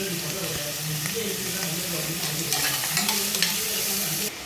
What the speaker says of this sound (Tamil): எண்ணெய் சூடாயிடுச்சு. வெங்காயம் போட்டுக்கோங்க.